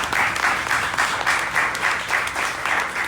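An audience at a teach-in applauds, the clapping arriving in a fairly rhythmic, pulsing pattern of swells, loud and close, with no talk over it.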